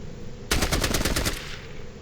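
Rapid burst of automatic gunfire in the Fallout Tactics video game, a loud dense volley lasting about a second with no talk over it.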